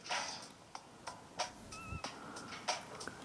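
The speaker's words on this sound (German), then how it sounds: "Das Kratzen in dem Kasten kommt von Ersatzpostkatzen?" Cats in a mailbox in the video game Deponia, heard as a series of short scratchy and mewing bursts at irregular intervals, fairly close and moderately loud, with no one talking.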